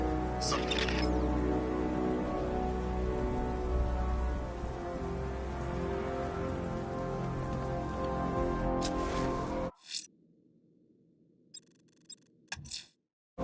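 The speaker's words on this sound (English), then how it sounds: "What's with all the rain?" Continuous rain falling on surfaces in Batman: Arkham Knight, steady and close for most of the stretch, then cutting off abruptly into near silence with a few brief bursts.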